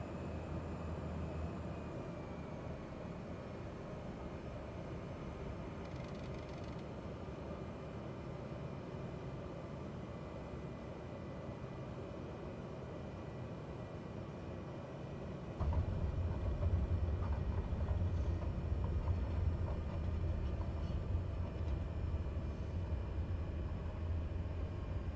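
Aircraft taxiing in Microsoft Flight Simulator gives a steady, faint engine drone and broadband hiss that grows louder and lower-pitched about two-thirds through, with no talking.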